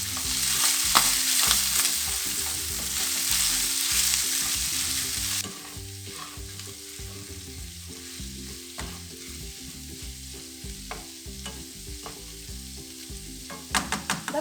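Spiced minced kefta frying in a pan, a steady sizzle that is loud at first and then drops to a softer crackle, with occasional stirring clicks and no voices.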